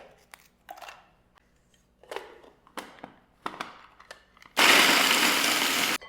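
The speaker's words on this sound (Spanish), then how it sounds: "Voy a comenzar pulverizando mis galletas." Large golden Maria cookies being pulverized in a blender: a few scattered clatters and knocks of handling, then a loud steady blender whir roaring for about a second and a half before stopping.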